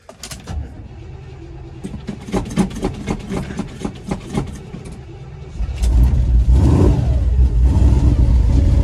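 A 1985 Chevy K20 square body farm truck engine cranks several times in quick bursts, then fires and settles into a loud, steady close idle with no talking.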